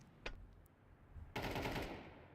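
Gunfire exchanged during a competitive LAN video game match, heard as a brief early shot followed by a loud, sustained burst of rapid automatic fire with no talking.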